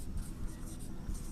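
A pen writing on paper during a Class 11 geography lesson: soft, continuous scratching strokes, faint and close, lasting just over a second with no voice.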